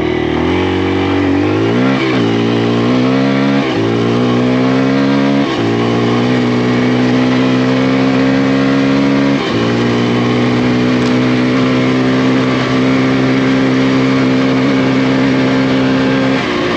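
A Kawasaki KLX140RF dirt bike engine revs hard and climbs through several gear shifts, each upshift dropping the pitch before a sustained high-revving drone; loud and close throughout with no talking.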